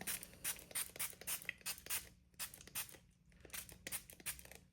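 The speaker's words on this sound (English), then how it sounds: "just gonna spray it" Several quick hissing bursts from a spray bottle, pumped in irregular clusters with short pauses between, close by and fairly quiet.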